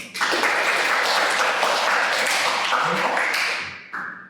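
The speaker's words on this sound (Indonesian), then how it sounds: "sekali lagi kita berikan tepuk tangan untuk kita semua" Class participants clapping together in a room, a dense, even burst of applause that carries on strongly for a few seconds before tapering off, with a short final flurry of claps.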